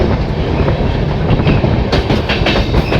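A Jan Shatabdi Express train near Kharagpur runs loud and close on the rails, a steady rumbling roar with rhythmic clickety-clack from the wheels and no voices.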